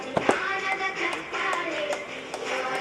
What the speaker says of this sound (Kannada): ಎಲ್ಲರೂ ಚಪ್ಪಾಳೆ ತಟ್ಟಿ ಗೌರವಿಸಬೇಕು ಈ ಕ್ಷಣಕ್ಕಾಗಿ.